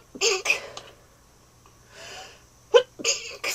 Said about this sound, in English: Oh no, now I gotta sneeze.